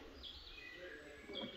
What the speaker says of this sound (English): I hear a chirping noise, and I don't know what it is.